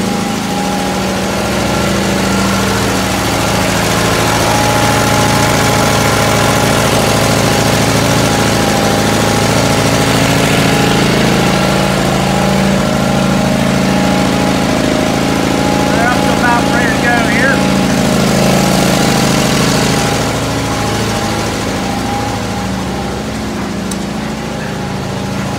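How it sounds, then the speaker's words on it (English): An air-started 35 horsepower Olin oil field engine from Titusville, Pennsylvania, running with a loud, steady, heavy thumping drone and knocking that continues unbroken throughout. "It's a 35 horse Olin from Titusville, PA engine."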